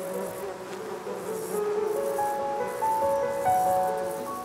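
Steady, close buzzing of many bees around hives built inside Mediterranean olive trees, a continuous drone with shifting pitches as individual insects pass.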